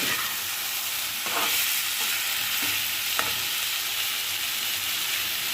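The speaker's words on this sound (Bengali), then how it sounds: "পেঁয়াজটা একটু ভাজা ভাজা হোক" Onions fry in hot oil in a pan with a dense, continuous sizzle, broken by occasional scraping stirs of a spatula, close and loud throughout.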